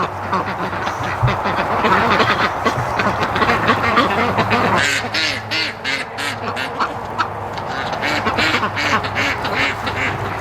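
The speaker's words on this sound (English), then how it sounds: "And it's the female duck that quacks, not the male." A loud, dense chorus of female duck quacks, many birds calling at once in rapid overlapping bursts that continue without a break.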